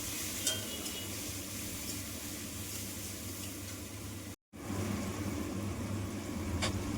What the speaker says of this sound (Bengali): এই পেঁয়াজ আর টমেটোটাকে হালকা ব্রাউন লাইট ব্রাউন করে ভেজে নেবো